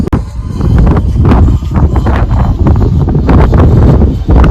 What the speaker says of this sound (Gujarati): પવન ને બહુ છે અટાણે